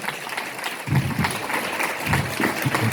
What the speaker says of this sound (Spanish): un fuerte aplauso para las damas de Ana y Simeón